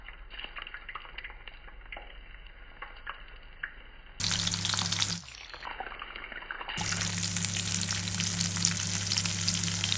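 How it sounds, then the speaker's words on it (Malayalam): Bitter gourd pieces deep frying in hot oil, with a steady, close sizzle throughout that swells louder partway through and stays dense to the end. "നമുക്കിത് നല്ലപോലെ ക്രിസ്പി ആവും വരെ ഫ്രൈ ചെയ്തെടുക്കാം."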